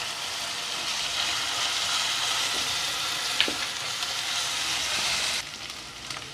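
Green chillies frying in hot oil in a pan while cooking a Dindigul-style biryani, giving a steady, close, dense sizzle that softens slightly toward the end, with no talking.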